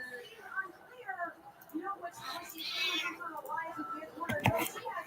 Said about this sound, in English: And the attack of my cat begins.